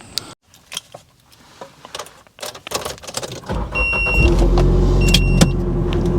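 Clicks and door handling, then a 1995 Nissan 240SX's SR20 engine cranks and starts, settling into a steady idle with a chime sounding over the running motor.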